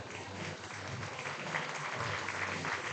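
A crowd applauds and cheers for a retiring starting pitcher at an American Legion regional baseball game, with sustained, fairly loud clapping throughout and faint murmuring underneath.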